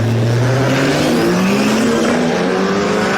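A 1969 Volkswagen Beetle makes a drag racing pass at Sick Week, its engine roaring loud and close with a steadily climbing pitch throughout the short burst.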